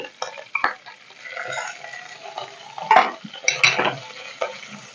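Curry leaves and green chilies tempering in hot oil on low flame, a close crackling sizzle with irregular bursts of popping and a few spoon or pan knocks, no speech.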